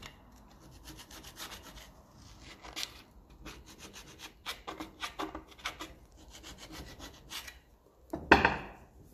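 Scraping grime off a Lucas starter motor part from a Ferguson 20 tractor, a series of irregular close rasping scrapes and rubs with pauses between, ending in a louder burst.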